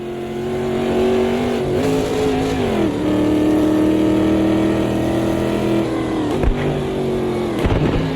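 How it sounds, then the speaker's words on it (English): A V8 Corvette engine in a racing video game revs high and holds a steady scream, dipping briefly as gears shift, loud and close with no talking. "it uses a V8 because it's a Corvette, and you can hear it scream"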